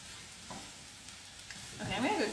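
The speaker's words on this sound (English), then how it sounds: "got the sun-dried tomatoes. Those are going into the pan. And now I'm just mixing these through." Sun-dried tomatoes are stirred through a hot pan with spinach, giving a soft continuous sizzle with scraping stirs that grows louder near the end.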